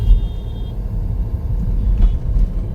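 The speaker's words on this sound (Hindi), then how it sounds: "ट्रैफिक मिल रहा है रास्ते में खूब बढ़िया वाला" Dense Sunday road traffic in Ghaziabad, a continuous loud low rumble of cars, trucks and buses passing close by, with swells of engine noise and no speech.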